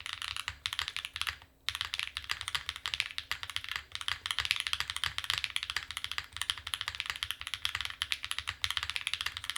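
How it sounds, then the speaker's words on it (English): Rapid, steady clacking of a mechanical keyboard being typed on nearby, a dense run of crisp keystrokes with a brief pause early on. "if I were to type a tad bit slower here"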